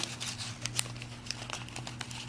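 Origami paper crinkles and rustles as it is folded and creased by hand, with soft papery crackles and a few sharp creasing ticks, close and fairly quiet.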